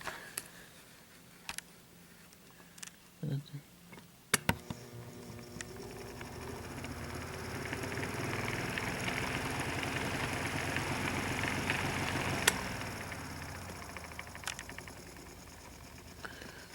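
A Windmere NR9 desk fan gives a few clicks, then starts up and runs with a steady, close whirring drone and a low motor hum that holds evenly to the end.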